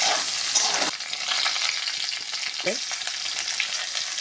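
Chopped capsicum sizzles in a hot pan while vegetable soybean curry cooks, a steady frying hiss broken by a few stirring scrapes, close and moderately loud with no talking.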